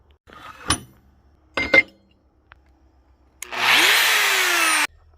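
An angle grinder cuts into a metal penguin sculpture during a renovation, a loud, steady grinding burst of about a second and a half after a few scattered knocks and clanks.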